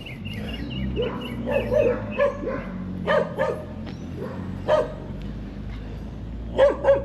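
A dog barks repeatedly at a short distance, in irregular bursts of two or three barks over a low background rumble, on an early morning walk in Cherry Gardens, Jamaica.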